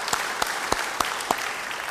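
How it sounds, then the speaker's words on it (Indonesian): A church congregation claps in praise to God during a sermon, a moderate, fairly even patter of hands at mid distance with a few sharper claps rising above the rest. "Beri tepuk tangan buat Tuhan hari ini."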